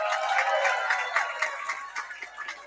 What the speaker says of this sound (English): Applause for China.